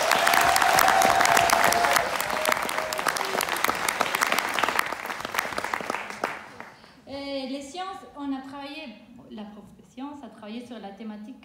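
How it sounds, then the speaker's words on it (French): Loud, dense audience applause greets a school slam poetry event about environmental protection, with sustained clapping for about six seconds before fading as a speaker begins talking. "D'ailleurs, on peut les applaudir bien fort."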